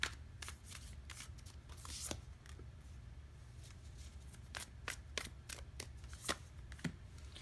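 Tarot cards are shuffled and drawn by hand, a quiet, close run of soft riffling snaps and flicks in irregular bursts, with no talking.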